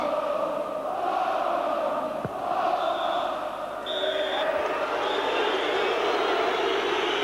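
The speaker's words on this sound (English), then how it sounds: "Boos from the crowd as Liverpool go out of Europe" A large football stadium crowd at Liverpool's Anfield during a 1992-93 European Cup Winners' Cup tie against Spartak Moscow, a sustained roaring, booing mass of voices filling the ground with a few sharp whistles cutting through.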